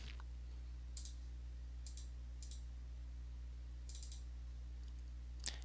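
Several faint, brief mouse clicks spaced irregularly, one slightly louder near the end, over a steady low computer hum during DNS setup on a SUSE Linux system.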